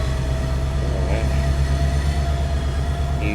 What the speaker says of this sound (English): some of the biggest trains that I've actually seen. These are double-decker engines.